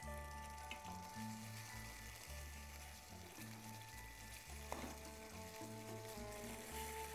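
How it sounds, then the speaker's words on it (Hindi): Tomato purée fries in a pan, a soft, continuous sizzle with a few faint stirring scrapes beneath steady background music. "जब आप टमाटो प्यूरी डालें तो थोड़ा इसको 1 से 2 मिनट भून लीजिए।"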